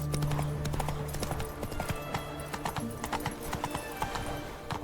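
Hoofbeats of Roach, Geralt's horse in The Witcher 3: Wild Hunt, clatter in a fast, rhythmic gallop, with a brief whinny near the start.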